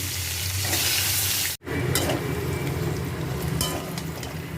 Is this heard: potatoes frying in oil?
yes